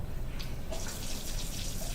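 Tap water runs steadily from a faucet, a continuous close-up hiss and splash with no voices.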